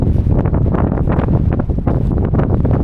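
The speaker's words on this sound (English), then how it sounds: "the wind's just picked up" Strong wind buffets the microphone on the exposed slopes of Souther Fell, a loud continuous roaring rush with rapid gusting surges and no let-up.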